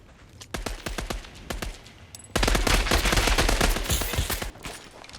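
Rapid bursts of automatic gunfire from the battle royale video game Scavengers, sharp repeated shots sparse at first, then a dense, louder sustained volley with no talking.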